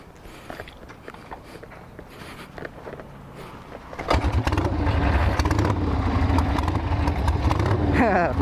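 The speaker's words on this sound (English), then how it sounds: "I wonder if this thing will kickstart." A Harley-Davidson motorcycle with a full tank is kickstarted: a few scuffs and mechanical clicks, then the engine catches on the first kick and settles into a loud, steady, close rumbling idle.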